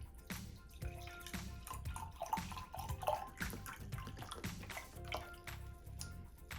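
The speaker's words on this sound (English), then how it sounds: "And we will pour that into our glass." Watermelon juice is poured into a glass, giving a soft, quiet splashing and gurgling stream of liquid with small drips.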